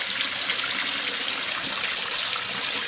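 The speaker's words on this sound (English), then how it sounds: "Oh, the well is flowing very nicely." Water flowing steadily from a well along a rural walking route, a continuous bright rushing and trickling sound, close and even in level with no talking over it.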